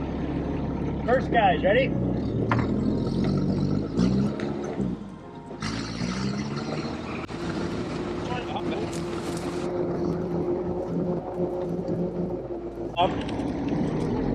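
A Sherp all-terrain vehicle rumbles steadily as it drives, carrying vendors as passengers at a sports center open house, its engine drone continuous under people talking close by.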